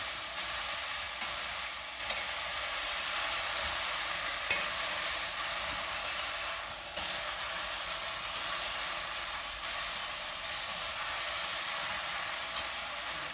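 Food browning with sugar in a pan over high heat gives a steady, loud broadband sizzle that runs unbroken, with a few brief shifts as the pan is stirred; no voices.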